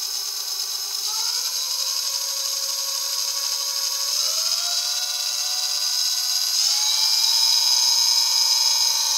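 A 72V 3000W chain-driven electric ATV motor spins up in fifth gear, a loud steady high-pitched whine that rises in steps as the throttle is opened further, continuous and alone throughout.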